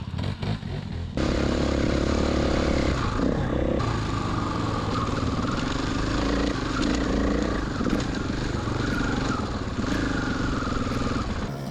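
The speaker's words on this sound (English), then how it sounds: "primary bike, a KTM 300 XCW. You can ride around the pit area." A KTM 300 XCW dirt bike rides around a pit area, its two-stroke engine buzzing and revving continuously at mid distance, with rising and falling throttle and some clatter.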